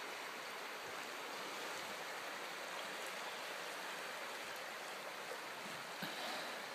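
A flooded creek rushes under a bridge as a steady, soft broadband wash of flowing water, continuous and fairly distant with no voices.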